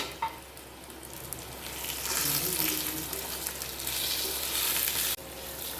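Spices with salt and turmeric sizzling in a pan of oil while being stirred, a continuous hiss that swells midway with soft scraping, ending in a sudden cut.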